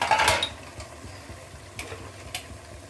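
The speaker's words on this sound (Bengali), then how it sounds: "এই যে আমি লাল শাক শিং মাছ দিয়ে তরকারি পাক করছি, এটাকে ভালো করে কষিয়ে নিচ্ছি।" Red spinach and shing fish curry being stirred in a pan, a few sharp metal spoon scrapes and clinks against the pan over a faint low sizzle, close up with no talking.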